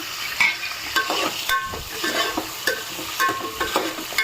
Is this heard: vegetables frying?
yes